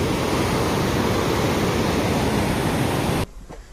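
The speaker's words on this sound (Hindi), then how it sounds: "उधर से जो पानी आ रही है कोयल नदी की" Sugga Bandh waterfall on the Koel river roars as a loud, steady broadband rush of falling water, close and continuous, cutting off abruptly near the end to quieter background.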